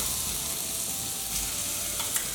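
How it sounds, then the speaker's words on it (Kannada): Green chilli paste frying with cumin seeds in oil in a pan for North Karnataka bhajji palya makes a dense, close, steady sizzle, with a faint crackle near the end. "ಜೀರಿಗೆ ಎಲ್ಲ ಫ್ರೈ ಆಗಿದೆ ಪೇಸ್ಟ್ ಹಾಕೊಳ್ಳೋಣ ಹಸಿಮೆಣಸಿನ್ಕಾಯ್ದು"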